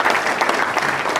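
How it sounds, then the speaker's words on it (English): An audience claps at a comedy magic show during a rope trick, a dense burst of applause that is loud and close. "This is our first major applause part."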